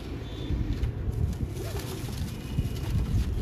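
Imam Deen pigeons cooing softly in a loft, low repeated coos over a steady rumbling background with no talk.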